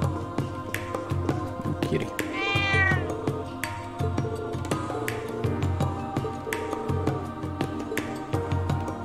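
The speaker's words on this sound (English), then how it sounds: "Kitty." Cat meows from the video game Trails of Cold Steel III, several short cries rising over steady game music and effects, fairly close and clear.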